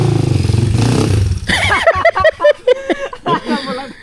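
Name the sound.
motorcycle engine running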